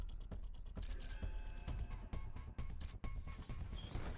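A door mechanism in the video game GTFO grinds open with steady ratcheting clanks, creaks and metallic gear rattles, loud and continuous with sharp knocks throughout.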